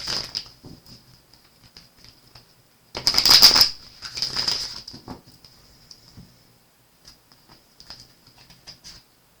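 A tarot card deck is shuffled close by in a quiet room: scattered soft flicks and taps, then a dense riffling burst, followed by more light, intermittent card clicks.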